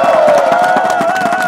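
A crowd at a Nexen versus Samsung baseball game cheers and whoops loudly in a brief, dense burst of voices close to the microphone.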